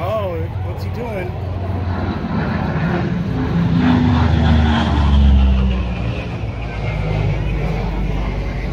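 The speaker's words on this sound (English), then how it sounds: "There's another plane. Bomber coming in again." A bomber's engines drone loudly overhead at an airshow in Camarillo, a steady rumbling roar that swells and fades while people talk nearby.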